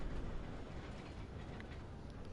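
Train in the Red Dead Online video game, a continuous low rumbling roll of wheels and carriages, close and steady, with no talk over it.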